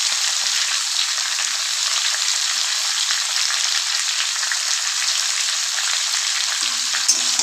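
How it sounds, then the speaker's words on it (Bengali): Pumpkin pieces fry in a pan alongside a crisp-fried hilsa fish head, giving a steady, close hiss of sizzling oil that runs evenly throughout with no talking. "মাছের মাথাটা তো কড়া করে ভেজে নিয়েছি, কুমড়োগুলো দিয়ে দিব।"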